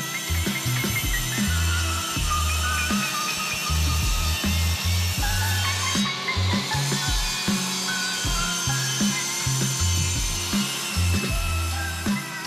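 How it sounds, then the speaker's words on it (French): A table saw cuts wooden boards into slats with a constant high motor whine, while rhythmic low thumps and knocks from the wood being fed and handled repeat across the cut. "Réglez à nouveau correctement la scie sous table et découpez les lattes sur la longueur."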